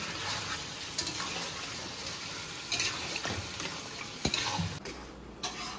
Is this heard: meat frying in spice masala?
yes